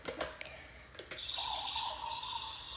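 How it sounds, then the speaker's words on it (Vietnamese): A toy castle's electronic door-opening effect plays: a few quick button clicks, then a thin, sustained creaking tone that carries to the end, fairly quiet and with no voices. "Đây là tiếng mở cửa."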